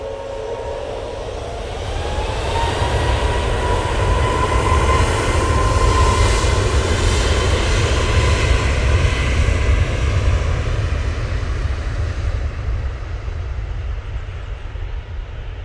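A Jet2 airliner touches down on its rear wheels during an emergency landing, with a loud, steady engine and rolling roar building after a couple of seconds and holding throughout.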